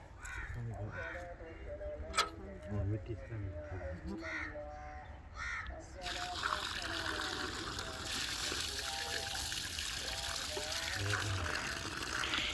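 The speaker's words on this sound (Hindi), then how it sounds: "अभी पानी डालें, पानी इसमें" Water poured from a container onto a newly planted sapling at a village home, a steady wash of splashing in the second half, with crows cawing nearby and people talking throughout.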